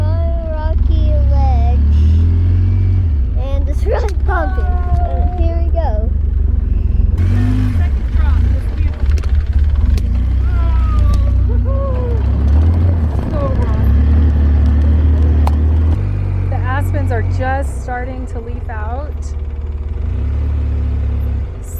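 An ATV grinds down a rocky ledge on the Cutover ATV Trail 319 near Pagosa Springs, its engine rumbling loud and steady throughout, with voices talking over the ride.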